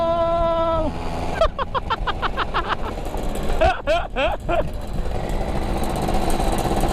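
A Kawasaki F1ZR two-stroke motorcycle engine revs hard in repeated sharp blips, rising and falling close by in Lampung, with a brief steady idle before the throttle bursts and continuous engine noise afterward.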